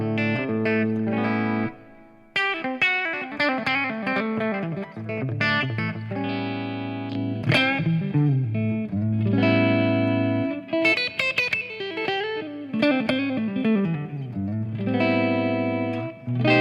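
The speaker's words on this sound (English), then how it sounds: "this is the rig with only amp, cabinets, and reverb, and this is the sound" An electric guitar played clean through a Fractal rig with amp, cabinet and reverb, picking chords and arpeggios with ringing, reverberant sustain, alone and close.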